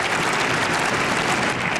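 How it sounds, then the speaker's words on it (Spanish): An audience gives an ovation during a political speech, a brief burst of dense, continuous applause, loud and full with no pauses. "De entrada, ovación."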